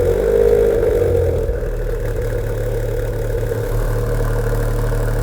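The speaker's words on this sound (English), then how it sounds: "So that's cold start on the GranTurismo Trofeo." A Maserati GranTurismo Trofeo idles steadily after a cold start, its engine giving a continuous, fairly loud low rumble with a constant tone and no revving, with no voices over it.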